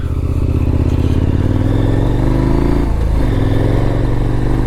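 Adventure motorcycle running on a ride, a loud close engine drone that rises in pitch and then drops back, with some rattling clatter and no talk.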